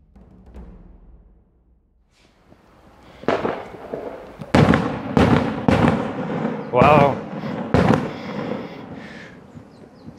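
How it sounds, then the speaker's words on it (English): Fireworks at a festival near Mt. Fuji in Kawaguchiko: a series of loud, sharp booms echo one after another, some close together, while a person reacts in the clip. "So the loud banging you can hear is fireworks"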